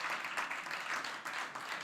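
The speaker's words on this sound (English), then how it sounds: "let's give him a round of applause" Applause from a gala audience celebrating a guest of honour, a steady wash of many hands clapping close and fairly loud, with a faint voice or two underneath.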